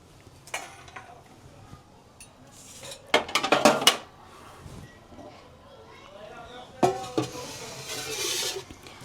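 Cooked cabbage muthiya dhokla pieces being lifted out and set onto a plate: clattering metal utensil scrapes and clinks in a few close bursts, with a voice talking over it.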